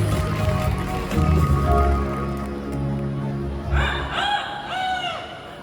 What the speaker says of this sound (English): Did you hear that? A rooster in the park?